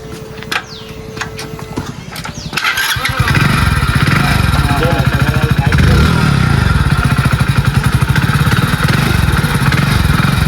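A motorbike engine sputters to life and then runs with a loud, steady, pulsing idle close by, with voices in the background.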